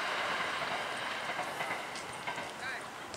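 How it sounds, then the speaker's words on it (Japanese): Steady rumbling roar of a train going by near a park with blooming cherry trees, broadband and continuous, with faint background voices. "その後電車が通ってるね"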